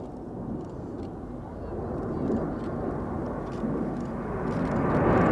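A Red Arrows jet display at an air show makes a broad, distant roar that slowly swells in loudness. An announcer's voice comments over the aircraft noise.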